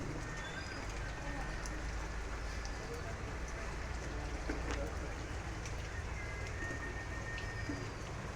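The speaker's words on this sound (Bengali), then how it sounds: "বৃষ্টি হয়েই চলেছে" Heavy rain pours outside during a storm that has toppled a papaya tree, making a dense, continuous patter that holds steady and even throughout.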